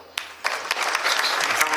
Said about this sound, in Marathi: हा टाळी वाजवा